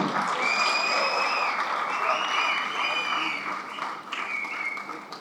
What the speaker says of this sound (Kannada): ಒಂದು ಚಪ್ಪಾಳೆ ಬರಲಿ.